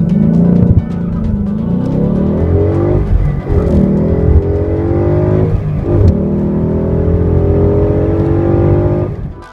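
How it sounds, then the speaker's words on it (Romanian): A 2015 Ford Mustang's 5.0-litre V8 engine revs hard and accelerates, a deep loud rumble climbing in pitch through several gear changes. "Motorul de 5 litri V8 sună și accelerează cam așa."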